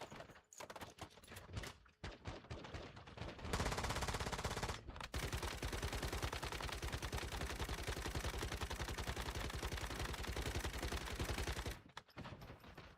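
Sustained automatic gunfire from the video game Once Human, a dense rapid rattle that runs almost unbroken for about seven seconds after a few shorter opening bursts, loud and close with no talk over it.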